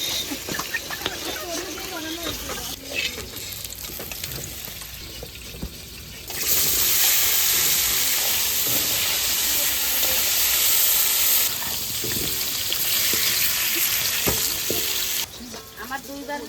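Eggplant and potatoes fry in a pan, giving a loud, continuous hissing sizzle that swells midway and holds steady, with clinks of utensils and people talking over it.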